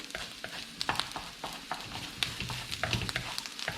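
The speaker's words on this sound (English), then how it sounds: "I just like to make it as a bit of an omelette on the side first, like a scrambled egg." Egg scrambles in a hot frying pan, sizzling softly under repeated scraping and tapping strokes of a utensil, close and quiet, with no voices.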